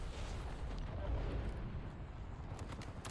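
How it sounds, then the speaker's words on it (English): Airstrike explosions in Call of Duty Warzone: a loud, sustained rumbling blast of low booming and crackling debris that swells around the middle and rolls on throughout, dense and continuous with no clear pauses. "Put an airstrike directly on your head"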